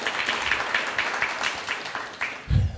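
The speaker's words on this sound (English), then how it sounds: "A round of applause again, please." A modest round of applause rises at a cooperatives bootcamp event in Pretoria, scattered clapping in uneven bursts that stays fairly soft before a low thump near the end.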